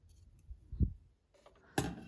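A couple of quick, quiet scissor snips trim excess thread beside a Singer 5511 sewing machine, heard close as short crisp clicks separated by near silence.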